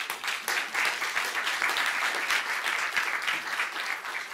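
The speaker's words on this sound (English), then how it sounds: "Can we give him a round of applause?" Sustained audience applause fills a live masterclass session, dense and steady clapping from a crowd at moderate distance with no voices over it.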